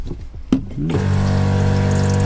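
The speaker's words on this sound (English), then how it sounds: "So we have our sink here, and there's a little switch that we just turn it on" A sink tap in a camper van is switched on after a few clicks and handling sounds, and water then runs steadily and close by with a constant pump-like hum under it.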